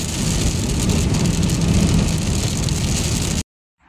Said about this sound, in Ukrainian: Ми на трасі. З таким гарним дощиком.